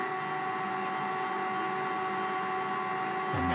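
A Lulzbot Mini 3D printer runs a slow 30 mm filament retract. Its motor gives a quiet, steady whine with faint hum and ends in a brief rising shift.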